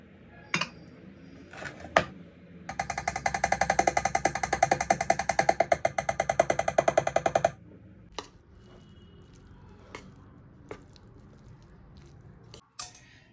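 A hand works Telangana chikkudukaya kudumulu dough with a fast, steady run of soft squishing and slapping sounds lasting about five seconds, close and moderately loud, framed by a few isolated clicks and taps.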